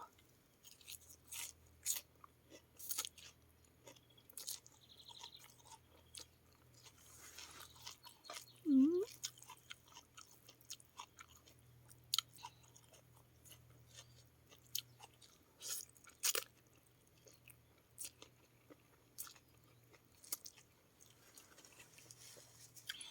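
Someone chews crunchy pea shoot tips up close, producing soft, irregular crunches and bites with quiet pauses. A voice briefly speaks between mouthfuls, and a faint low hum sits underneath.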